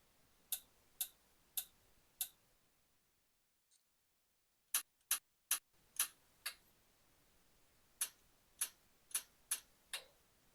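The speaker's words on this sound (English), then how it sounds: "And now to torque them. These bolts get torqued in 4 different stages." Sharp metallic clicks from a torque wrench reaching setting on engine bolts of a BMW N63 V8, spaced in short groups of four with a brief pause, close and isolated in a quiet workshop.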